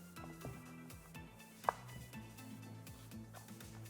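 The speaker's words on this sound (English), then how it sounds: "Cut up our flatbread." A knife cuts through flatbread with a quiet series of soft strokes and one sharper tap against the board, close and faint over a low background tone.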